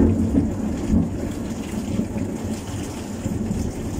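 Thunderstorm over Komsomolsk-on-Amur in early July, with a steady wash of rain and low rolling rumbles of thunder throughout, fairly loud and close, with no voices present.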